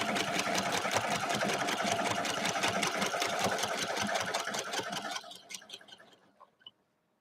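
A sewing machine quilts a three-yard Time Machine quilt with steady, rapid close-up stitching for about five seconds, then slows and stops, leaving a few faint clicks.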